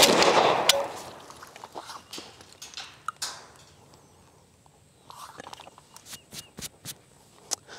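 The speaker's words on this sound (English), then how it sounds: "I'm cleansing the palette a little bit with this beautiful Yugo M72 RPK that we built" Rapid shots from a Yugo M72 RPK rifle crack out as loud bursts at the start, followed by a quieter string of sharp separate reports near the end, with no talking.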